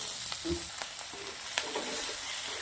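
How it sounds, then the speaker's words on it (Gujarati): Chopped chillies and capsicum sauté in hot oil for a brinjal chilli masala, giving a soft, steady sizzle with a few light stirring clicks, faint and alone. "હવે આપણે આને પહેલાં થોડું તેલના અંદર સોટે કરી લેશું."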